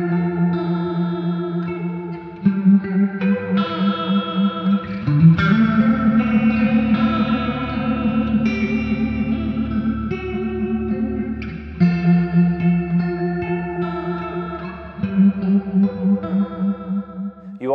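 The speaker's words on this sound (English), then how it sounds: "they've taken 12 analog style effects and piled them in here to where they sound amazing" Electric guitar played through a VOX VTX amplifier using its analog-style effects: sustained chords and riffs washed in chorus, echo and reverb, with a distorted, louder middle section before the cleaner, shimmering tone returns. No voice.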